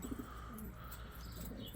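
Soft, low coos of young racing pigeons in their loft sound faintly through a quiet background hum, a few short murmuring calls.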